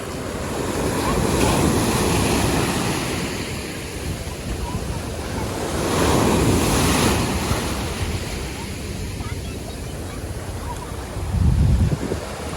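Ocean surf washes onto a Myrtle Beach shore, with broad swells of rushing wave noise rising and falling a few times, mixed with steady wind buffeting the microphone.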